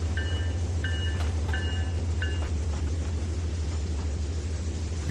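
A train in the Trainz 2019 railway simulator game rolls over a road crossing with a constant deep rumble, while four short horn-like tones sound in the first few seconds.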